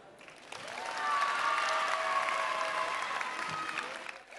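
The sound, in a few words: audience applause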